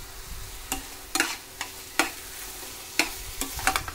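Roasted cashews being stirred into beetroot halwa in a pan, a quiet background sizzle with distinct spoon scrapes and clacks recurring about once a second, close and alone.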